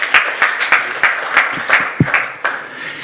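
Audience applause rings out after a presentation at a sustainable packaging and recycling summit, a steady patter of distinct claps from a modest crowd, fairly close and loud, with no talking over it.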